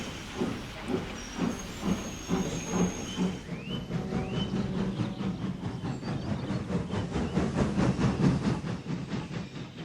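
Emily, a cartoon steam engine, chuffs along the track in a steady rhythm of hissing steam puffs and rail clatter that quickens and stays loud and near, with a short whistle-like squeal in the middle.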